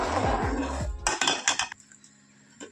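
A spoon scrapes and clinks against a metal pot while Gobindobhog rice simmers in milk for payesh, a run of close, bright knocks followed by quieter scraping and a final tap.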